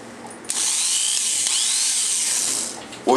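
A power drill whines steadily at close range for about two seconds while it drives long screws into a tool's pro grip handle, starting and stopping abruptly.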